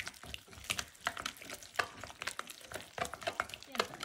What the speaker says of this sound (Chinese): 现在就给它搅拌均匀，上上劲儿啊，打出黏劲儿